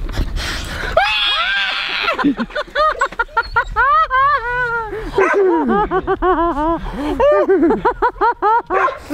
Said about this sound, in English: I hear my dog barking